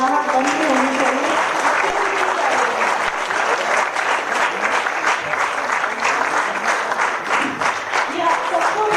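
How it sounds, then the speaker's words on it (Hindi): An audience at a lifetime achievement award ceremony during a theater festival claps continuously, a dense, steady roar of applause with a voice faintly audible beneath it. "आप लोगों की तालियों की गड़गड़ाहट बंद होनी चाहिए।"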